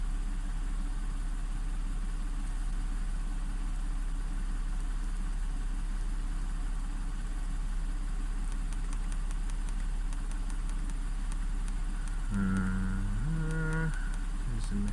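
An Audi engine idles with a misfire after timing repair work, giving a steady low rumble with an uneven throb, close and continuous, with a brief tonal whine near the end.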